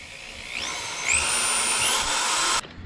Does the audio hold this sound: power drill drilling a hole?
yes